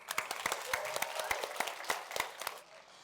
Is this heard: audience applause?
yes